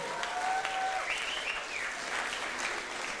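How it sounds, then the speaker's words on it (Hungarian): A concert audience applauds the bass guitarist of a music school band in Kiskunhalas, a steady wash of clapping throughout, with a faint whistle or cheer rising over it. "tapsoljuk meg!"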